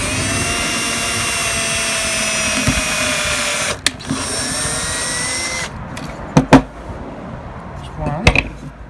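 A power drill turns a very small bit through a DIY bladeless soap beveler, a steady high whine running for several seconds before stopping, with short clicks and bumps of handling afterward.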